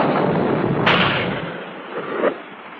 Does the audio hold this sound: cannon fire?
yes